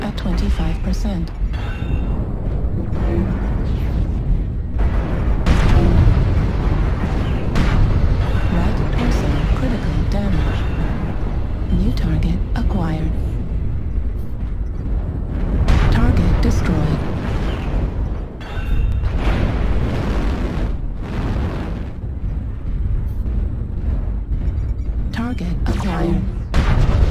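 Heavy booming cannon fire from a game, repeated deep blasts and rumbling impacts throughout, with a synthetic voice speaking over the action.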